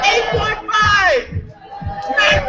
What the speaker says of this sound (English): Keep that applause going for our poets